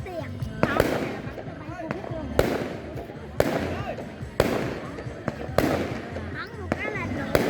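Fireworks set off in the countryside on Lunar New Year's Eve, a series of sharp loud bursts roughly every second with crackling tails between them, while people talk and call out nearby.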